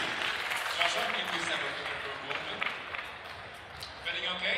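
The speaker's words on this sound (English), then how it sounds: "Round of applause for Joshua from Brewers Cup." An audience at a national coffee championship finals applauds a Brewers Cup competitor, a sustained crowd clapping wash with scattered sharper claps, while voices talk over it.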